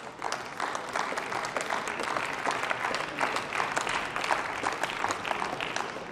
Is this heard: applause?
yes